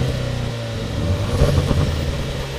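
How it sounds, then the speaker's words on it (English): A Jaguar F-Type's 300-horsepower four-cylinder Ingenium petrol engine rumbles steadily, then revs up briefly, heard up close with no voices. "It's our new four-cylinder petrol Ingenium engine with 300 horsepower."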